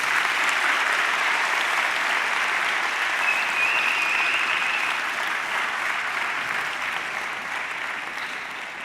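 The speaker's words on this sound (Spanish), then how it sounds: "Si le aplaudimos también, seguro que..." An audience at a Galician reading clubs conference claps in steady, sustained applause that fills the room from start to finish, fading slightly toward the end.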